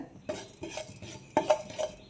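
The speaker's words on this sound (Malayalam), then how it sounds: "ഒരു പാൻ അടുപ്പത്ത് വെച്ച് നമ്മൾ എടുത്തു വെച്ചിരുന്ന ഉലുവയും ജീരകവും ഒന്ന് ചെറുതായിട്ട് വറുത്ത്" A utensil scrapes and clinks in a pan while fenugreek and cumin seeds are roasted for urad dal porridge, giving a few sharp metallic knocks and stirs close up with a faint sizzle underneath.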